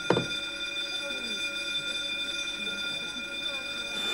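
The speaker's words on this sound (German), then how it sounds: "Das ist doch die Alarmanlage." A burglar alarm rings continuously with a steady, high electronic tone that holds unbroken for the whole stretch, heard at moderate level with faint background rumble behind it.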